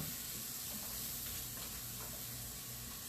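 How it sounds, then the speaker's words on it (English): Vegetables sauteing in a scratched skillet, being softened, give a steady broadband sizzle that holds even and close throughout, with no talking. "we're gonna just saute these, get them a little bit softened"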